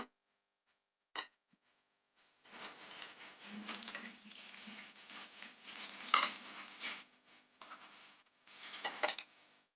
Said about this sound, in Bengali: আর রাতের কিছু থালা বাসন আছে, ধুয়ে নিচ্ছি আমি